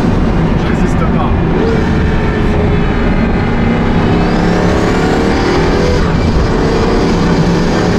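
A Pagani Huayra Codalunga, a 840 hp supercar, accelerates hard with its engine roaring loudly and continuously from inside the cabin, pitch climbing through the revs, with a voice talking over it.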